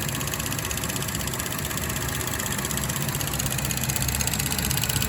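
A Chevrolet Cruze engine idles after a water pump replacement, a steady, even running hum that holds unchanged throughout with no voices over it.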